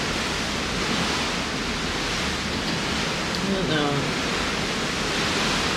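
Ocean waves washing in a steady, dense hiss from a cruise ship deck, loud and continuous, with a brief mumbled remark from a person partway through.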